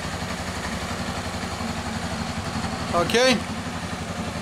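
A Honda CB 300 motorcycle engine, freshly overhauled, idles steadily at 1500 RPM with an even low hum throughout, while someone talks over it briefly near the end.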